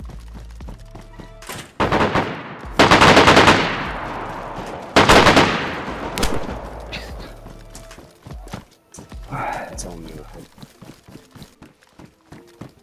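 Gunfire in the video game DayZ: a couple of loud, sharp shot bursts with rattling echoing tails, followed by quieter scattered clicks and thuds, with a brief voice in between.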